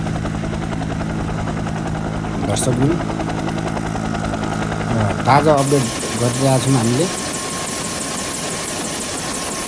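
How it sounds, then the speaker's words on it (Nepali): An army helicopter hovers during a rescue over a burning building, its rotor chop a steady, loud, continuous drone while a reporter talks over it. "आर्मीको हेलिकप्टरद्वारा चाहिँ यहाँ मानिसहरूको उद्धार भइरहेको छ।"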